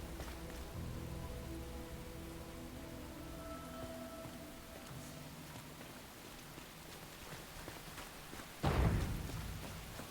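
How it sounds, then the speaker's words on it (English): Steady rain falls in the Enshrouded game world, a soft, even hiss of drops on surfaces, joined by faint tones and then a sudden dull thump near the end. "It's rainy out here."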